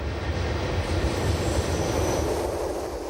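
Swiss SBB train running on the Brünig Line through the Hasli Valley toward Meiringen, giving a steady, loud rolling rumble with faint wheel clatter throughout and no voices.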